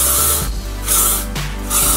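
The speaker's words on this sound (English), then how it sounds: "I'm going to spray all over the area that I just" Hairspray is sprayed onto hair that has just been combed back for a sleek ponytail, in three loud, close hissing bursts separated by short pauses.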